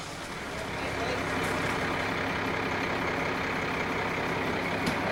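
A truck carrying a large silver bird sculpture pulls out, its engine a steady, fairly close rumble that builds after the first second and holds, with faint voices underneath.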